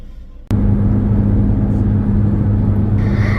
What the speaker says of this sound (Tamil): நான் தான் வந்து காடி ஓட்டுறேன்.